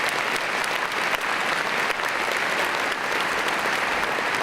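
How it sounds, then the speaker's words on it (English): An audience at an annual meeting gives a loud, continuous round of applause, many hands clapping together in a thick, even roar from start to finish. "Let's give them all a round of applause."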